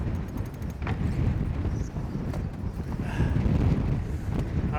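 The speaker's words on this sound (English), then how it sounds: "it's just freaking windy" Strong winter wind batters a boat moored off a Greenland beach, a constant heavy roar and buffeting rumble across the microphone with no letup, loud and close.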